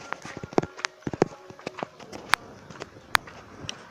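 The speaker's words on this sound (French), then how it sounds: "excusez-moi du bruit derrière, c'est la télé" A television plays in the background of a home where poultry are raised, giving off sharp, hoof-like clopping knocks at an irregular pace, fairly close and with no talk.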